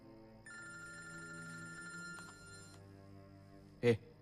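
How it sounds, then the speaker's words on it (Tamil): A telephone rings with an incoming call in a 2013 Tamil thriller film scene, a quiet electronic ringing tone sounding for about two seconds, followed later by a short, loud thump. "ஆர்த்தி தான் கால் பண்ணிருக்கா"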